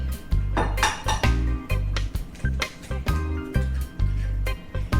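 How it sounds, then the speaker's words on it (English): An egg whisked in a bowl for blueberry muffin batter, the whisk clinking rhythmically against the bowl in quick repeated strokes, close and clear with no talking. "We're gonna make sure our egg is nice and whisked."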